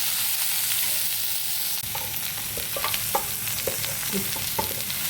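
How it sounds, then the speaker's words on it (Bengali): Vegetables such as carrot, potato, pointed gourd and ridge gourd are stirred in a frying pan, giving a steady sizzle broken by scattered scraping clicks of a utensil that grow more frequent toward the end, close by with no talk. "একটু ভালো করে নাড়াচাড়া করে নিচ্ছি।"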